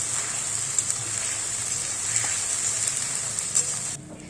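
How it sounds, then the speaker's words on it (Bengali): A paste of ginger, green chilli, cumin and tomato sizzling steadily in oil while being stirred for a paneer curry, an even close hiss with occasional soft scrapes, cutting off abruptly at the end. "সেই পেস্টটা দিয়ে আবার নাড়াচাড়া করতে থাকবো"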